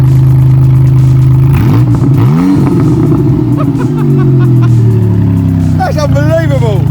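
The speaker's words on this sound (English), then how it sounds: "Not all DeLoreans are this loud, as you heard from mine." A loud DeLorean engine with a straight-through exhaust idles with a deep burble, then revs up sharply a couple of times, rasping and close, with people talking over it.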